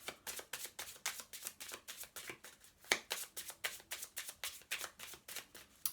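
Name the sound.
drawing Angel Blessings oracle cards from the deck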